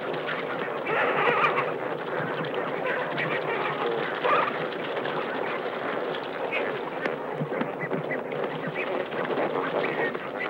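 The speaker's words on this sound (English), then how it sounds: "Finally, Shadow concentrates on a single bird." Birds on a shoreline call and coo repeatedly in a busy outdoor scene, moderately loud and continuous, with a narrator's voice talking over them.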